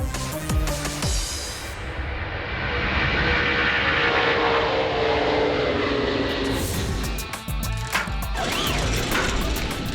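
An Antonov AN-124 giant cargo plane takes off, its jet engines roaring in a loud, sustained rush that swells and holds for several seconds, with no talk over it.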